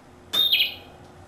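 A single bright bird chirp rings out once, short and clear against a quiet background, rising and falling within about half a second.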